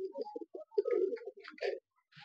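Pigeons kept in a loft give a close, quiet series of short throaty coos in uneven bursts, with brief pauses between phrases.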